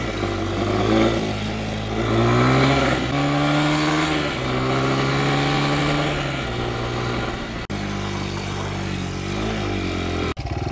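A dirt bike engine revs loud and close, its pitch rising and falling in sustained pulls with a brief cut near the end, no talk over it.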